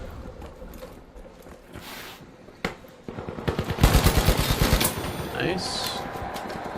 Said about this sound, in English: I hear gunshots in the distance.